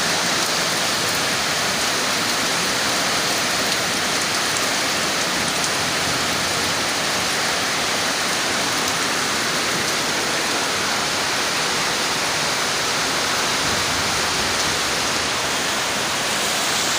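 Steady rain falls continuously, a dense even hiss of drops with no pauses, fairly close and moderately loud.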